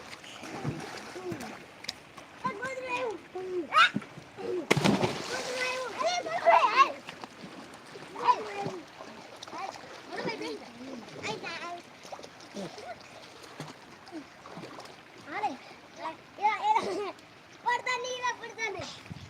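Water splashes in bursts in a forest pond, one big splash standing out, while children shout and talk excitedly around it.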